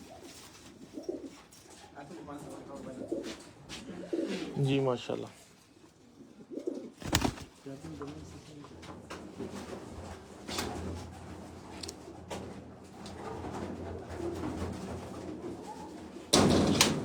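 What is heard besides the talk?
pigeons cooing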